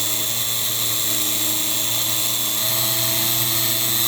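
A small slot car motor spins at high speed on an RPM test set, giving a steady, loud, continuous whine with a constant pitch for the whole stretch and no talking.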